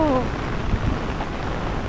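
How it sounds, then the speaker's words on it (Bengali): Heavy rain pours down at a seaside village, a loud, dense and continuous hiss of falling water close by, with a short vocal sound at the very start. "আবার বৃষ্টি শুরু হয়ে গেছে পুরো জোরে"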